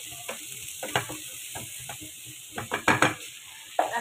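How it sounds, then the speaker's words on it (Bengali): Okra and shrimp frying in a pan with turmeric powder, stirred with a utensil: a steady low sizzle broken by irregular close scrapes and clacks of the spatula against the pan, with no talking. "আমি এখানে হালকা একটু পরিমাণ মতো হলুদের গুঁড়ো অ্যাড করে দিচ্ছি। দিয়ে আর একটু নেড়ে চেড়ে নিব।"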